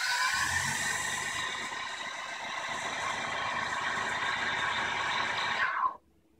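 A mini mill spindle spins at 2500 RPM, a steady high-pitched motor whine with harmonic tones, loud and continuous before cutting off abruptly near the end, no talk.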